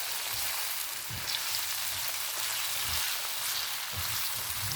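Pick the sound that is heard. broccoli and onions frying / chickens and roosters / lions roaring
broccoli and onions frying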